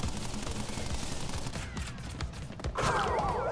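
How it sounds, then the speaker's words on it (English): Rapid Tommy gun fire rattles in a boss fight in the Crash Bandicoot N. Sane Trilogy game, a dense burst of shots that thins out toward the end as a bright mechanical whir rises. "Now you've got to wait for his Tommy gun to fail."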